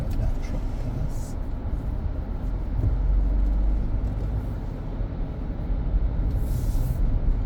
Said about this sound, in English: Just let that truck pass.